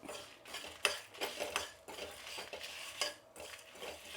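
Coriander seeds and dried red chillies dry roasted together in a pan, with rattling, scraping spoon strokes against metal in an uneven rhythm and a faint sizzle, close up, with no voices.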